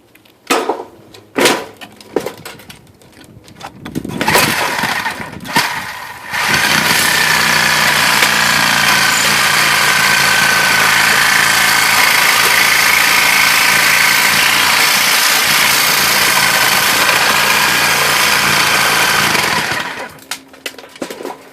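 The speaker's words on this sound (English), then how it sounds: "I'm sawzalling all that stuff out with a metal saw blade." Reciprocating saw with a metal-cutting blade cutting out old window framing during a bay window install, with a few short revving bursts first and then a loud, steady buzzing cut lasting about fourteen seconds before stopping.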